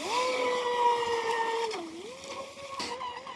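A motorboat engine drones steadily, its pitch dipping and rising as the throttle changes, with water rushing around it.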